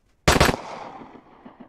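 A single loud gunshot in a video game, a sharp burst followed by a short decaying echo tail, with no talking.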